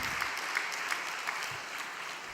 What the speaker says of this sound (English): Why don't we give her a big round of applause?